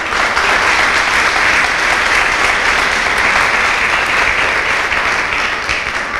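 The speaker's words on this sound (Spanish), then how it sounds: "¿Cuánto le dan un aplauso al Señor?" A church congregation gives a dense, loud, continuous round of applause to the Lord during a sermon, sustained evenly throughout with no break.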